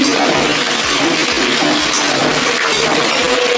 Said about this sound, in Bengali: বন্ধুরা আমি পেঁয়াজের পাপড়িগুলোকে ভাজছি